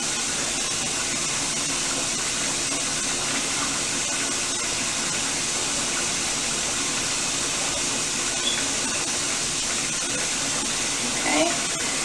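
Water runs steadily in a constant hiss while rinsing shampoo out of a child's mixed-texture hair on washday, with a faint brief clatter near the end.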